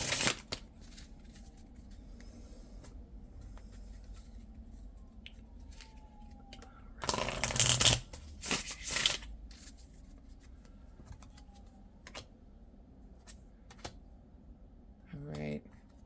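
Oracle cards being shuffled for a tarot reading, a soft papery riffle with a louder burst of card flutter midway and scattered light taps, quiet and close.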